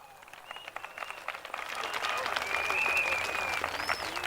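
A crowd at an open-air political rally in a stadium applauds, the clapping swelling from scattered and fairly faint to a fuller, steadier wash over a few seconds.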